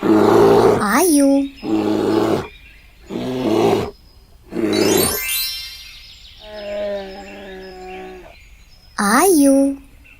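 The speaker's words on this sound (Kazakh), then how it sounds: "аю" A bear roars in a series of loud, close bursts of a second or two each, separated by short pauses, with a quieter, tonal growl in the middle.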